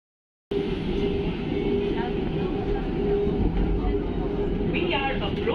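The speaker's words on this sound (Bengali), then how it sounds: "ট্রেন একদম অন টাইমে আসছে। Train number 2227 new Jalpaiguri Guwahati Vande Bharat express." Steady, loud rumble inside the New Jalpaiguri–Guwahati Vande Bharat Express as it runs, a continuous low roar with faint squeals near the end and muffled voices buried beneath.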